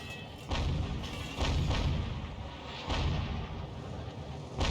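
Artillery shell strikes the lip of a ramp during a World of Tanks battle with Hummel and GW Panther self-propelled guns, heard as several heavy booming impacts spaced about a second apart over a constant low rumble.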